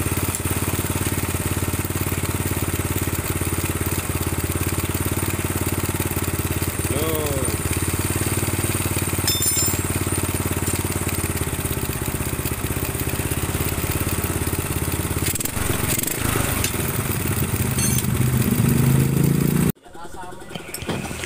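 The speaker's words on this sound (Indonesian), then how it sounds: "Ini suara mesin kurang sehat" Honda Astrea Grand motorcycle engine running rough with leaking compression, a steady close idle throughout that cuts off abruptly near the end.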